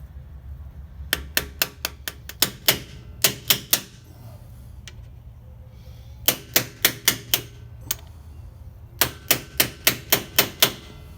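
A seal driver is hammered to seat an axle tube seal, sharp metallic taps in rapid bursts of several strikes with short pauses between, close and distinct.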